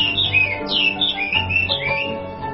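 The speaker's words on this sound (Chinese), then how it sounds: "这好听吗，画眉？" A Chinese hwamei thrush sings loud, close, varied whistled phrases with rising and falling slides, unbroken and with no talk over it.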